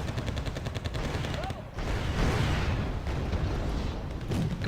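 Rifle fire from infantry riflemen in the Wargame Airland Battle video game, a steady crackle of repeated shots running throughout, fairly loud and dense, with a short lull partway through.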